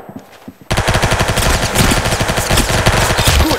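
Rapid automatic gunfire from the Roblox video game erupts after a quiet start, with dense, loud bursts continuing without letup to the end.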